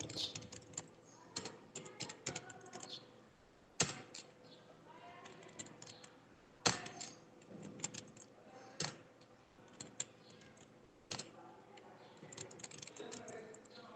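Names being typed on a computer keyboard into an Excel salary list, a close, continuous run of quick key taps with irregular bursts and occasional heavier strokes, faint and without speech.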